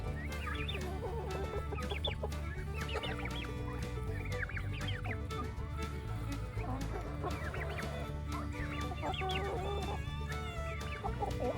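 Turkeys feeding on grain on a farm, giving a busy chorus of clucks, trills and gobbling calls from several birds close by, in bursts over a constant low background hum.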